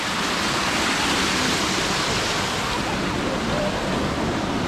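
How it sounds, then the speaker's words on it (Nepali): A small waterfall pours in Australia, a steady close rushing wash of falling water that stays loud and even throughout. "ल हेर्नुहोस् यो झर्ना हो"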